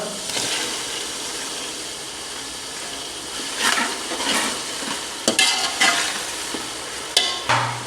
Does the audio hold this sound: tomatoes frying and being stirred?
yes